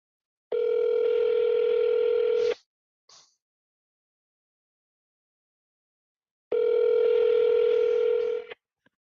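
A telephone rings out on the line with two long, steady buzzing ring tones about four seconds apart, separated by silence with a faint click in the gap. No voices are present.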